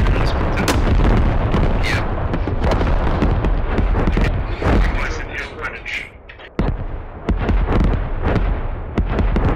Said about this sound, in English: He's dodging the artillery shells.